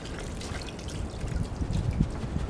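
Dirty fluid with crud trickling and draining out of a used 316 mower's gas tank, a steady close dribbling stream that grows slightly louder toward the end.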